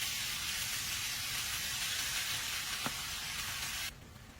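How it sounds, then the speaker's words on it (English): Marinated carne sizzling in hot oil in a pan on the stove, a steady close frying hiss with one brief knock partway through, then quieter. "Once I put my wooden spoon in and it starts sizzling, I know that it's ready for my meat"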